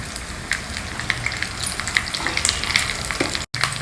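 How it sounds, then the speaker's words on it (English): Urad dal, chana dal and a few dry red chilies frying together in hot oil for a traditional South Indian Navratri prasad, a steady close sizzle with scattered pops and crackles throughout, no voices. "fry them all well together till all the dals are well roasted."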